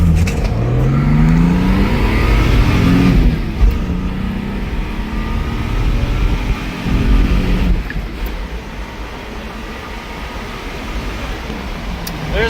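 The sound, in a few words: Japanese import car accelerating from 0 to 100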